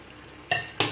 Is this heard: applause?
no